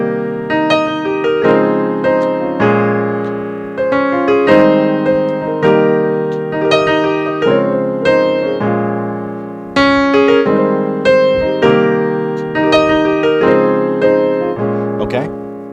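Piano chord progression, played as a series of sustained, ringing chords struck one after another in a slow, even rhythm, clear and close with no talk.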